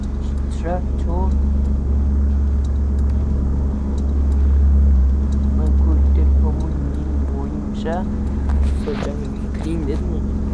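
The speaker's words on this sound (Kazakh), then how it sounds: "Трактор." Tractor driving in the Offroad Simulator video game, a continuous low engine rumble that swells slightly midway while a voice talks over it.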